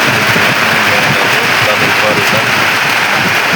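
Heavy rain pours down outside a house in a rural farming area, caught while sowing jute seed. It is a dense, steady roar that stays loud and unbroken throughout.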